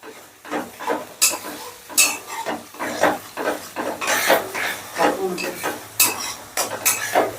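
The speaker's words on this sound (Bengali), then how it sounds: "এবার এই সসটাকেও অল্প সময়ের জন্য একটু নাড়াচাড়া করে নেব।" Chili sauce and soy sauce being stirred in a pan for chili chicken: rhythmic scraping strokes of a utensil against the pan, about one every second, over a faint sizzle.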